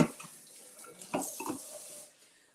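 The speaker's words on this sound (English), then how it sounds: "So let's just rinse this out." Water runs from a kitchen sink tap as something is rinsed out, a short uneven splashing rush that swells and fades over a couple of seconds at moderate level, with no one talking.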